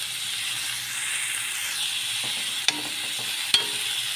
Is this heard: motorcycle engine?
no